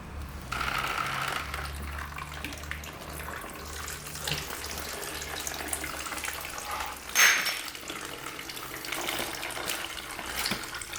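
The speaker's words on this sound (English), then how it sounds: "Now to like tip the coolant out, hopefully we'll see where it's going to come out." Coolant from a 50-year-old diesel engine on a workbench splashes and trickles out as the engine is tipped, with a sharp metallic clunk partway through and low handling noises around the pour.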